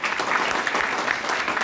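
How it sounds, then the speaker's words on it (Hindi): Loud, dense applause from an audience at a Fresh Zone LDP program in the Taj Hotel, Nashik, a continuous clatter of many hands clapping close by with no break. "जोरदार ताली आप लोगों की।"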